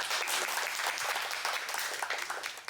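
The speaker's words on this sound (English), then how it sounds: "Ladies and gentlemen, please give a round of applause to Rhonda." An audience at a women-in-STEM panel session claps steadily for a panel speaker, a dense, even round of applause with no one talking over it.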